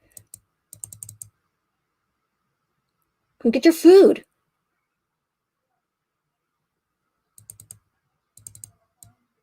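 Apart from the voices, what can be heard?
computer mouse clicking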